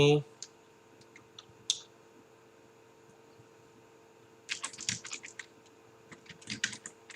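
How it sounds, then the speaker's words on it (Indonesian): Computer keyboard typing into a search box, with a single early click, then two separate bursts of quick close keystrokes over a quiet room hum. "Kita ketikkan di sini"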